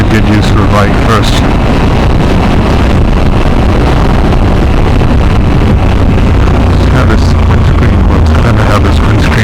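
A Suzuki V-Strom 1000XT motorcycle on a test ride gives a loud, steady engine drone mixed with heavy wind rush across the microphone throughout, and a rider talks over it now and then.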